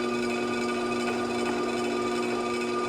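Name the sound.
trim tool trimming excess clay off a pottery honey jar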